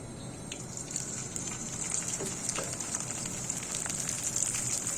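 Dried kachki fish fry in oil over medium heat, a steady, crackling sizzle like rain on a surface, close and moderately loud with no voices.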